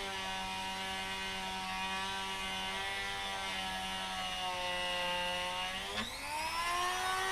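A Dremel rotary tool cleaning up bedding compound on a Weatherby Vanguard Series 2 rifle stock, a steady high-pitched whine that holds its pitch, then dips and climbs near the end, close and with no voices.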